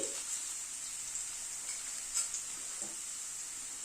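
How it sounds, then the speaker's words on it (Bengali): Small diced potatoes fry for ghugni with a soft, steady, hissing sizzle, broken by a few faint taps from stirring. "আলুটাকে ভেজে আগে তুলে নিচ্ছি"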